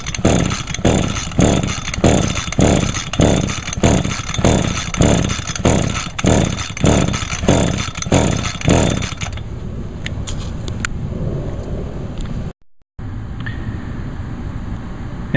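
An Echo SRM 225 string trimmer's small two-stroke engine is cranked by its recoil starter with the throttle wide open, about fourteen loud rhythmic pulls, then stopping into quieter background noise.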